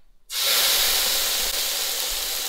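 A steak hits a hot oiled pan and erupts into a loud, steady sizzle that holds strong and unbroken after a moment of near silence.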